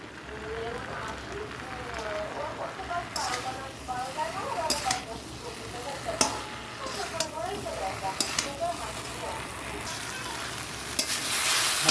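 Brinjal going into a frying curry masala of potato and drumstick, a close sizzle with stirring scrapes and clatter, while someone talks over it at intervals.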